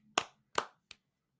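Three sharp hand claps in quick succession, close and fairly quiet, the last one softer and shorter, in an otherwise silent room.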